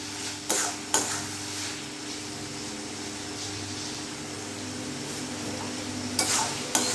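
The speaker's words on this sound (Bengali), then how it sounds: "মিডিয়াম করে আমি ভালোভাবে কষিয়ে নেব" Mutton liver sautés over medium heat in a pan, giving a low steady sizzle. A few sharp clinks and scrapes from a stirring spoon break through near the start and the end.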